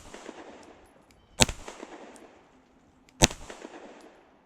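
Two sharp gunshots from a Fusion Firearms XF PRO striker-fired pistol crack out about two seconds apart, loud against a quiet outdoor background.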